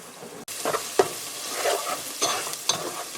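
Spices being stirred in a hot frying pan while making butter chicken, with a steady sizzle and several scraping strokes of a spoon against the pan, close and fairly loud, and no talking.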